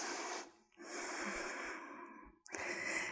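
Slow, deep breaths during a yoga plank pose, heard as a long exhale, then a sustained inhale and another exhale. The breathing is close and quiet, with no talking.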